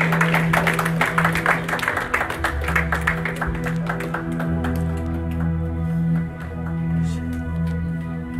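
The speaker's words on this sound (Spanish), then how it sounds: "Apláudale más fuerte al poder de Dios" Congregation applauding at a church service, steady rapid clapping from a crowd over a sustained organ-like musical drone, with faint voices.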